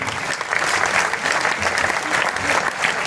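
Audience at a poetry gathering in Rajakhera breaks into sustained applause, a dense, steady roar of clapping from a large crowd that swells slightly in waves.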